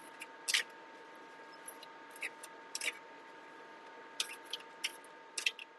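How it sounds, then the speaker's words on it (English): Tarot cards are shuffled by hand, giving quiet, crisp snapping and riffling clicks in scattered clusters against a soft, steady room hiss, with no one talking. "I think that's enough shuffling"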